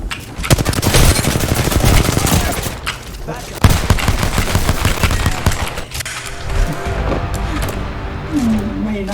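Rapid bursts of gunfire from a pistol in a video game crackle loudly and almost continuously, with overlapping shots and other game noise throughout.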